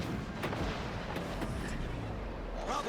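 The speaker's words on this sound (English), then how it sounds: "Secondary guns, fire!" Secondary guns on the premium battleship Marlborough firing in World of Warships Legends, several sharp booming shots spaced over a loud, continuous rumbling game soundscape.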